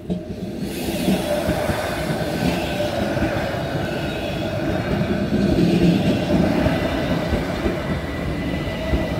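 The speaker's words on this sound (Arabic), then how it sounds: "القطار الثاني جاي من الصوب الثاني." A train rolls past a level crossing in Grindelwald, Switzerland, a steady close rumble of wheels and cars running for the whole stretch with no voices.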